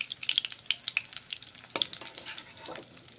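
Bhola fish frying in oil, a brief spell of crisp, irregular crackles and popping spatters close up over a faint sizzle, with a louder stirring scrape midway.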